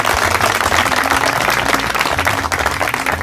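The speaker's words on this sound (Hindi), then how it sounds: "चौपाल की अंत हम करेंगे एक ज़ोरदार तालियों से, हर कोई अपने लिए ताली बजाएगा" Villagers at the close of a village council meeting in Jaunpur clap together in dense, loud, continuous applause throughout.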